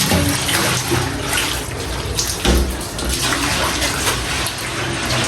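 Water runs steadily and loudly while a window is washed with soap, a continuous rushing, splashing gush that stays near and unbroken for over five seconds.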